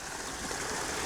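Steady rushing water fills the whole moment, a continuous splashing flow as fountain jets pour into a pool in an old Mughal garden, close and even.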